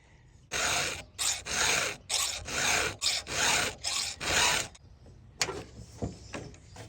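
Hand file sharpening the chain of a Husqvarna 372 XP chainsaw, a run of eight or so loud, evenly paced rasping strokes close by, followed by lighter, quicker scraping strokes.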